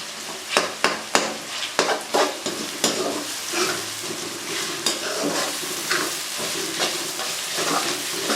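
Onions and tomatoes fry in a pan for a stuffed eggplant dish while a utensil stirs and scrapes them in sharp, repeated strokes over a steady sizzle. The sound is close and clear, with no talking.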